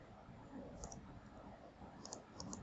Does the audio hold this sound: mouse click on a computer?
yes